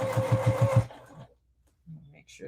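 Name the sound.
embroidery machine sewing a back stitch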